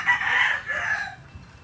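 A rooster at a game fowl farm in Taytay, Rizal crows once, close and loud, a drawn-out strained call that fades as it ends.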